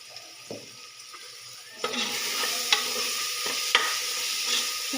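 Ginger garlic paste fries in a pan for a gongura mutton dish. A soft hiss swells into a steady, broad sizzle, with a few light clinks of stirring.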